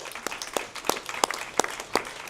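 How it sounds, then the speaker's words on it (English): A small audience at a memorial lecture on intellectual property claps sparsely, with distinct individual claps landing roughly every third of a second over a thin background of murmur. "if we could give him a round of applause"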